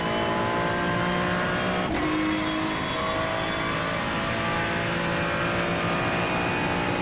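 A NASCAR race car at Las Vegas revs hard, the engine note stuttering and cutting as traction control kicks in. It runs loud and continuous for several seconds, with a sharp change in pitch early on.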